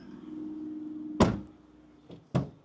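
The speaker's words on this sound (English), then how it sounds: "open the other door" The door of a Storyteller Overland RV at an RV show is handled, giving a sharp latch-and-swing thunk followed by two quicker clacks, close and loud over a low hum.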